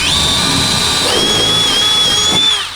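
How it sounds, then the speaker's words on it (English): A power drill bores out aluminum rivets holding corner pieces on an RLD Design truck canopy for a 2020 Jeep Gladiator, a loud, close, continuous high whine that holds steady for a few seconds, then cuts off. "We've got aluminum rivets that are holding these corner pieces on. What I'm going to do is drill"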